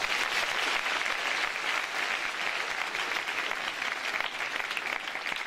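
An audience at a Bible college event applauds the participants, a continuous, even roar of many hands clapping that stays steady throughout without voices.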